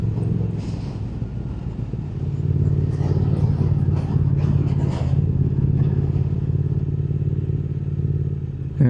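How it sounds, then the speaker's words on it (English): A Triumph Speed Twin 1200 motorcycle's exhaust rumbles loud and close, a deep steady throb that swells slightly as it revs, with no voices over it. "The sound of that exhaust is brilliant."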